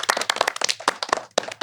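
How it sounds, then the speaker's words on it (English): A brief round of applause from a small group, heard as scattered, uneven handclaps, some sharp and close, with short gaps between bursts. "Let's take a moment to give each other like a round of applause right now"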